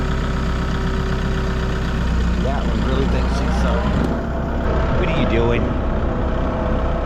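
Farm tractor engine idling steadily through the whole stretch, a loud low rumble close by, while a person talks over it.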